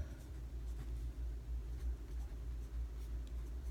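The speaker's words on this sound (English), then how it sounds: "It only wants to write at one angle, and if I don't find that angle, it doesn't want to write." A pen scratching across a writing surface, struggling to write unless held at one angle: soft, faint scratchy strokes in short bursts over a steady low hum, without talk.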